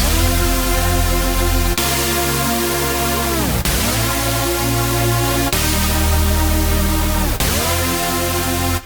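Loud, bright supersaw synth chords made in FL Studio hold for about two seconds each, and each new chord begins with a downward pitch slide, four changes in a sustained, dense wall of sound.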